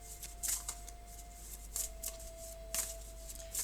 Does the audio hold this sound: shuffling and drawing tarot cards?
yes